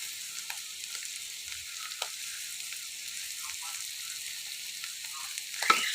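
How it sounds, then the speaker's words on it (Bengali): Sliced bitter gourd frying on high heat in a pan, a steady, soft hiss of sizzling oil with a few faint stirring clicks and a brief louder scrape near the end, no talking. "আমি হাই হিটে ভেজে নিচ্ছি"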